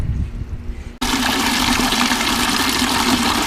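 Water gushes hard and steady from a tap while stain is rinsed out of paint brushes, starting abruptly after a quiet moment and continuing loud and close throughout.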